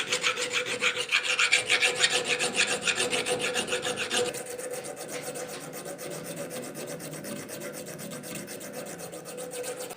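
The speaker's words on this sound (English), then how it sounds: "we'll start focusing on a bit more draw filing now" A file is draw-filed along a blacksmith's hammer head in steady rhythmic rasping strokes, loud and close for about four seconds, then continuing softer and evenly to the end, with no talking.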